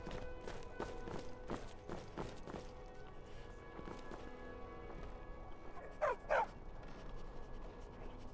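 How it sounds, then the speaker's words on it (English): A dog in Skyrim barks in a quick series of sharp yelps, followed by a pair of louder whimpering cries near the end, over steady game ambience. "That a little puppy dog?"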